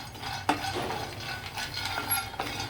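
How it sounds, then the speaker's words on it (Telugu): A spoon scrapes and stirs through almonds dry roasting in a pan, several rhythmic rattling strokes close by, with faint clinks. "ఇలా కలుపుతూ వేయించాలండి"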